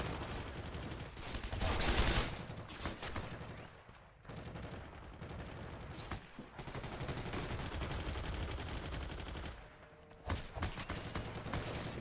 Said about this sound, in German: Irgendwo snipert immer einer.